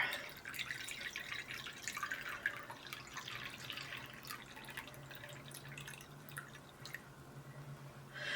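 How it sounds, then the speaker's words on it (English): Faint trickling and dripping of 350 grams of warm water into sourdough dough in a bowl, quiet and close, with soft splashy bursts and no voices. "I'm going to add 350 grams of warm water"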